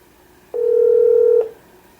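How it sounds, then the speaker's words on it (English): A single steady electronic tone of just under one second from a cheap single-DIN Bluetooth car stereo receiver placing a phone call, loud and clean against a quiet background. "Let's try a phone call now."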